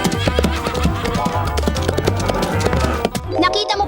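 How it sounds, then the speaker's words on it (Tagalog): Rhythmic clip-clop of a Clydesdale horse's hooves, a steady loud trot under a busy backing of music and other sounds. "Ito ay isang kabayo na Clydesdale"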